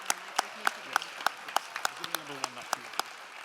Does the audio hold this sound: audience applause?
yes